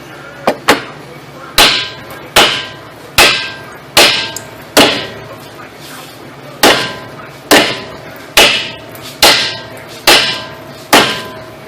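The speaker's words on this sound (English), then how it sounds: "Hit it with a hammer a few times really hard, and it should loosen up that seat." Sharp metallic hammer strikes on a grease fitting of a 1990s Buick LeSabre's suspension, about a dozen heavy blows in an uneven rhythm, each ringing briefly, close and loud with no talking.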